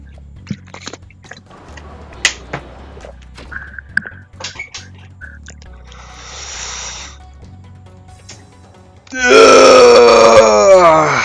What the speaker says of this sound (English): Just let me clear my throat.